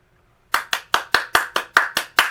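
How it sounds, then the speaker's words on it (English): One person claps alone in a quiet room, ten crisp, evenly spaced claps in a steady rhythm, close and fairly loud. "Round of applause for me"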